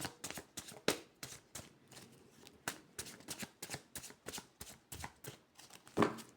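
Rapid, rhythmic riffling of a tarot card deck, bursts of flapping cards repeated many times with short pauses between, close and crisp.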